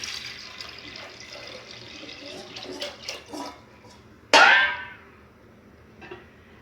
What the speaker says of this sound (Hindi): अब इसमें डालते हैं पानी।